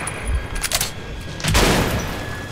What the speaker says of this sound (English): You just shot a shotgun next to my head.